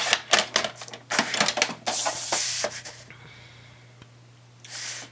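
Patterned cardstock is cut down for Halloween pillow treat boxes, with several quick rasping snips or slicing strokes up close in the first three seconds, then quiet and a final brief swish.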